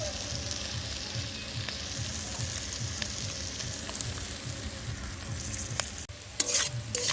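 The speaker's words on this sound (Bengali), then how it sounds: "আলু ভাজাগুলো এবার গুগলি দিয়ে একসাথে করে নিচ্ছি কষা কষা" Snails and fried potatoes stirred together in a hot pan, a steady close sizzle with repeated scraping stirs, a sharper clatter near the end.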